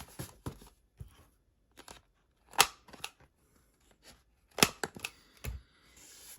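Paper pocket folder corners being rounded with a cutter, a handful of sharp close clicks and crunches spaced irregularly, with faint handling noise in between.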